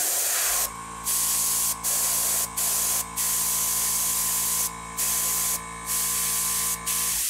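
An airbrush sprays paint onto a model starship saucer section in short bursts, roughly seven hissing spurts with brief gaps, over a steady compressor hum.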